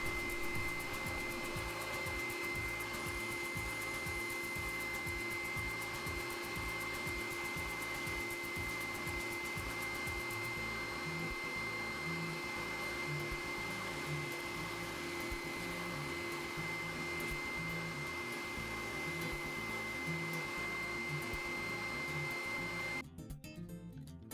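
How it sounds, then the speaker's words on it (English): Steady, continuous grinding drone of a spindle sander working beech wood, loud and unbroken, stopping abruptly near the end. "I tried to clean up as much as I could on the spindle sander"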